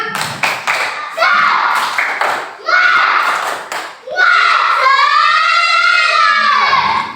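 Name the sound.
schoolchildren doing a rhythmic spirit clap (tepuk semangat)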